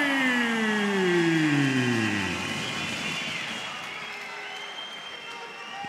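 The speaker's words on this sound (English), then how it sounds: "We can hear the kind of crowd support that Al Mansouri has got in the arena here tonight" A large arena crowd roars and cheers at an MFC middleweight fight night, with a sweeping tonal sound gliding downward over the sustained crowd noise.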